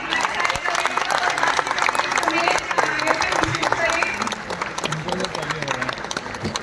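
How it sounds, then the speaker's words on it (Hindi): Audience applause welcoming speakers at a Hindi poetry gathering: dense, continuous clapping from a crowd, steady and loud, tapering slightly near the end. "तालियों के साथ स्वागत करिए"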